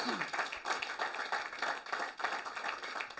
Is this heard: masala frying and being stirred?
no